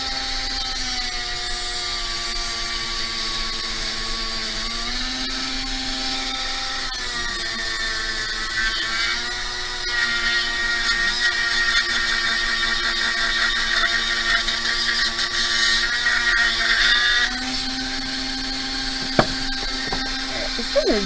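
A power tool with sanding discs whines steadily on a beadwork metal piece, holding a high, continuous grind that shifts pitch now and then, with a brief clatter near the end.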